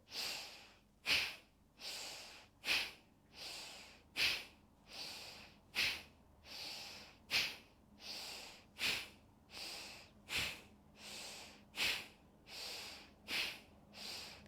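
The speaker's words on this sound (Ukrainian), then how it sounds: "Будемо в носом робити різкий вдих і носом різкий Видих." A person doing a yoga breathing exercise takes sharp breaths in and out through the nose, about eighteen quick, evenly spaced snorting puffs, close and fairly quiet, with no talking.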